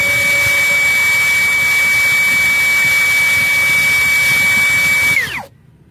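A brushless 21V MLHY drill driver spins at its lowest speed setting, giving a steady loud whining hum with a sustained tone that holds for about five seconds, then drops in pitch and cuts out abruptly as the motor stops.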